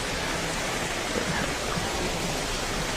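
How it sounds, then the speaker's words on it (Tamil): Heavy rain pours down in Bukit Bintang, Kuala Lumpur, a dense, continuous roar of falling water with no pauses, fairly loud and steady. "செம மழை தூருது"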